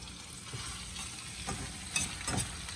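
Tomatoes, spinach and chopped garlic frying in a pan, a steady close sizzle with a few louder stirring scrapes and bursts near the end, no voices.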